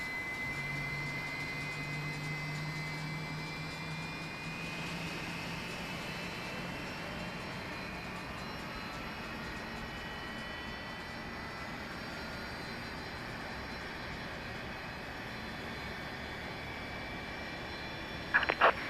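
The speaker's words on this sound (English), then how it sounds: "we have good engine start" A UPS Airbus A300-600RF jet engine spools up in a flight simulator game, giving a steady droning roar with rising whining tones throughout and a brief clatter at the end, no talking.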